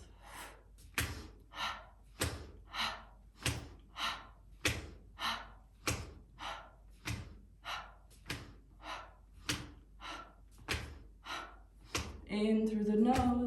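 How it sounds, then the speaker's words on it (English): Fast, forceful breaths are pushed out through the mouth in a steady rhythm while the arms swing, about fifteen sharp puffs close to the microphone, ending with a longer breath and a voice. "Now we shift to a fast release of the breath with the same movement."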